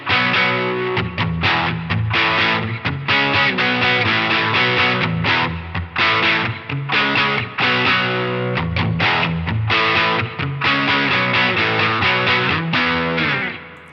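A Les Paul electric guitar on its middle pickup position, through a Proco Lil' Rat distortion pedal, plays a steady, chunky riff with sustained chords, loud and continuous throughout, no voices.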